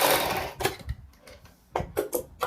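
A sewing machine stitches a kurti neck piece together with buckram, running in short close bursts separated by brief pauses, with no talking.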